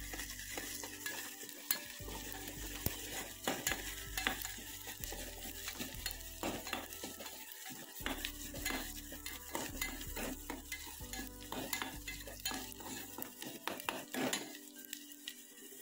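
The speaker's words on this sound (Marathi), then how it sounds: "कांदा आपला चांगला लाल होतो आता." Onion frying in a pan with homemade spices, sizzling steadily while a utensil repeatedly scrapes and clinks against the metal, fairly close and busy throughout, with no voices.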